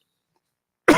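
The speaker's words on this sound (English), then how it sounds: "I'm sorry, I might cough" A single short, close cough breaks a near-silent second during a livestream, starting abruptly at the very end.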